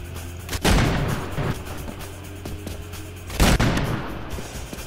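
Two loud, sharp revolver shots ring out about three seconds apart in Garry's Mod, each with a booming, reverberant tail that fades quickly, with no talking.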